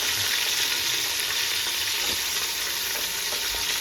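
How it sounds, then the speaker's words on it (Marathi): Onion sizzles in hot oil as tempering for a Marathi-style homemade chicken biryani gravy, a loud, constant crackling fry with occasional stirring clinks and no talk. "फोडणीसाठी कांदा टाकला आहे."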